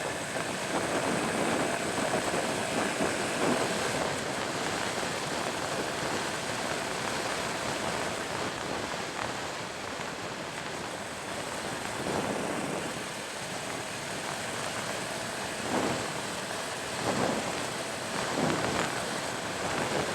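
Honda Super Cub C125 motorcycle fitted with a YSS fork kit riding at high speed, with steady roaring wind rush and road noise filling the clip continuously, loud and unbroken for its whole length, with no talk.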